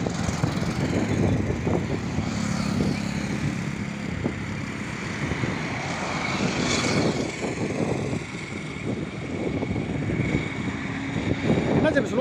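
A plane approaches slowly to land at Madurai airport, its engine drone steady and fairly distant throughout, with people talking over it.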